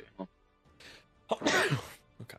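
A single loud sneeze bursts out near the mic during a game league match, with short bits of talk just before and after.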